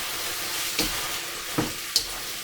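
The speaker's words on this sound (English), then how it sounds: "Noodles in. Mix them up nicely with your stir-fried veg." Noodles being tossed with stir-fried vegetables in a hot pan, giving a steady close sizzle with a few sharp scraping stir strokes.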